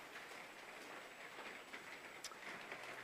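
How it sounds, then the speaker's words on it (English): Steady outdoor rain hiss with a soft broadband wash and occasional faint drips, continuous and fairly quiet throughout, no voices. "The wonderful rain out here,"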